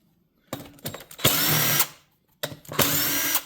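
A power screwdriver drives screws on the frame of a Stihl BG 55/65 blower. It gives two loud, close whirring bursts, each starting with a few brief stutters, with a quiet gap between them.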